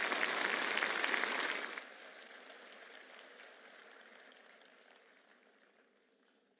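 Audience applause at the Bharat Tex 2025 textile event, a dense burst of clapping for under two seconds that stops abruptly, leaving quiet hall ambience.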